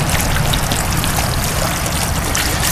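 Water trickles and splashes steadily from a blue ripple jar fountain, a close, continuous patter with no voices.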